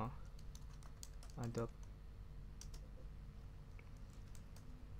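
Computer keyboard typing runs as quick scattered clicks under steady background hum, with a brief voice breaking in near the middle.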